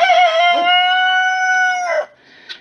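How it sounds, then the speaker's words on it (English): Loud, harsh guinea fowl and chicken calls with a strained, nasal tone, one long sustained squawk followed by a brief fainter cry, close by with no talking. "So they start squawking, and the chickens, Doug and his girls come running"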